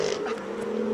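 A tuned BMW M2 GTS with a manual gearbox sits on the start line at a Cape Town hillclimb, its engine holding a steady, droning idle at moderate loudness with no voices over it.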